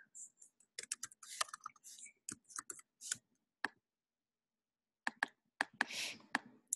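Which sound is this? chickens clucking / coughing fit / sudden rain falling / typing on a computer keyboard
typing on a computer keyboard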